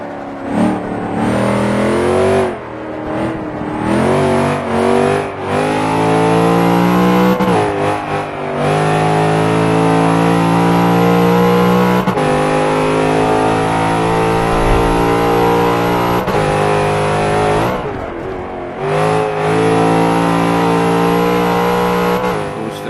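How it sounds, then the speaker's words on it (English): A car engine in the racing game Forza 5 revs hard toward the red line, loud and sustained, its pitch climbing and dropping through gear changes with brief dips, with no talk over it. "Revving it into the red line again."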